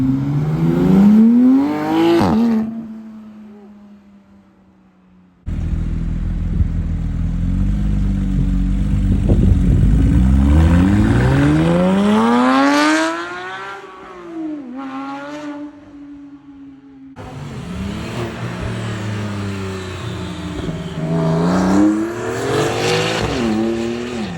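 A Porsche 991 GT3 pulls away at a car gathering, its high-revving flat-six climbing loudly through several gear changes, fading, then rising again in further strong pulls as it drives off.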